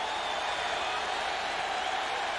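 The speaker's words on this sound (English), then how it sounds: "They're cheering" A stadium crowd cheers at a 1995 NFL game between the Dallas Cowboys and the Oakland Raiders in Oakland, a steady, distant wash of roaring noise that neither swells nor fades.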